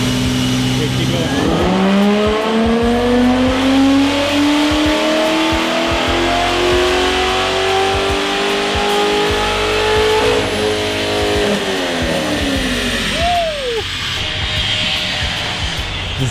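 A car launches on a run, its engine note climbing steadily as it accelerates over several seconds, loud and close, while people talk nearby.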